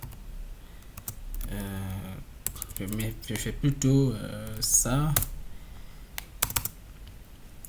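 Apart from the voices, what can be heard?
typing on a computer keyboard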